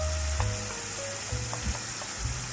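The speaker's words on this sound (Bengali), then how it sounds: "পুরোপুরি মশলাগুলোকে ভেজে নেব" Ground turmeric, chili, coriander and cumin with salt fry in hot oil for a lentil dal, giving a steady close sizzle with a few soft stirring knocks, alone without talk.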